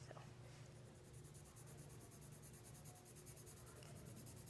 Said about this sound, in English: I'm going to press a lot harder on my pencil, and then I'm going to ease up as I go along